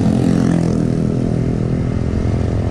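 A Yamaha 75 two-stroke motorcycle climbs a foggy mountain road toward Dieng, its engine droning loud and close with a steady, buzzing rasp that holds throughout without a break.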